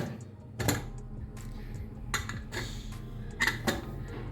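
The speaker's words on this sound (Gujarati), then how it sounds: "તો હવે અહીંયા આપણે કુકરનું ઢાંકણું જે છે એ બંધ કરી લઈએ" A pressure cooker lid closing onto a cooker of bottle gourd and lentil curry, several close metallic clacks and scrapes at irregular intervals with no talking.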